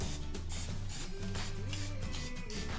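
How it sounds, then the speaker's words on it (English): Nonstick cooking spray hisses in short bursts into a mini cupcake pan, with steady background music underneath. "we are gonna add a little bit of nonstick cooking spray to our little mini cupcake pan"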